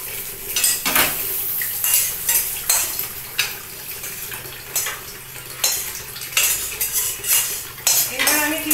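Cooked egg khichuri tipped out of a metal pot, with repeated scraping and clinking of a ladle against the pot and a wet sliding pour, loud and close, no talking.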